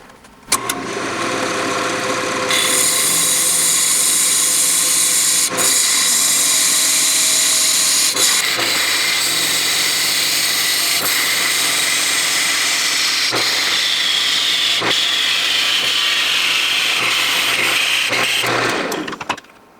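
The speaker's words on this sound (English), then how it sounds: "I'm going to go carefully when I part this off" A wood lathe spins as a scrapwood bowl lid is carefully parted off, producing a loud, steady motor whine with a broadband scraping hiss from the tool cutting the wood, broken by a few brief clicks before it winds down.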